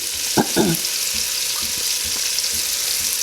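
Minced onions and celery fry in a pan for red beans and rice, a steady bright sizzle with a few soft stirring knocks near the start, close and even throughout with no voices.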